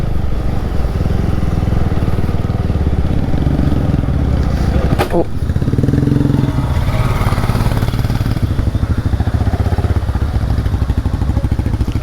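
A motorcycle rides a hill road in Kerala, its engine droning steadily and close throughout the ride, with a sharp knock near the middle and a rougher, lower rumble for a moment afterward.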